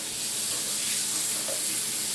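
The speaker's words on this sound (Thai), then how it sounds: "ตามด้วยหมูที่เราหมักเอาไว้ก่อนหน้านี้นะครับ ใส่ลงไปผัดได้เลยครับ" Steady sizzling of marinated pork stir-frying in a hot wok, a continuous hiss without talking.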